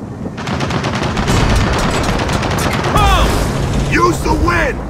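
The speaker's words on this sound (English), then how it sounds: "We gotta take out that turret!" Loud, close turret fire in Gears of War 4, a fast steady stream of heavy rounds that hammers for several seconds. Shouting voices cut in near the end.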